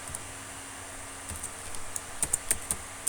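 Typing on a computer keyboard while writing a Python program, with sparse faint clicks at first, then a quicker run of sharper, closer keystrokes toward the end.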